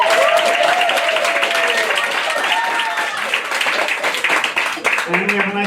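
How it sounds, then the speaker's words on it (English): A comedy-club crowd breaks into sustained applause and clapping, dense and steady throughout, with a few whoops and a voice rising over the noise near the end. "Clap it up for that."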